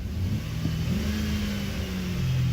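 A Buick LaCrosse 3.0L engine with a newly replaced throttle body revs up close by, a steady loud roar whose pitch climbs and holds, with no talk over it.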